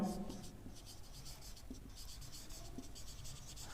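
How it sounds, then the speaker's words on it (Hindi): Chalk or marker scratches steadily across a board during a classroom grammar lesson, a continuous faint scraping with short strokes and a voice talking briefly at the start. "देखिए मैं यहां पर लिख के देता हूं"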